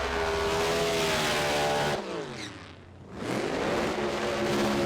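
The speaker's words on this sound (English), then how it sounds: "So huge burnouts again." A Pro Mod drag racing car does a burnout at a 2014 British Drag Racing Championship round, its engine roaring loudly with squealing tires. The roar dips briefly, then surges back to full volume.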